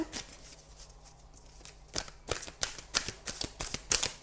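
Tarot cards shuffled by hand, starting quietly then building into a run of crisp riffling bursts and soft slaps, close and clear with no voices.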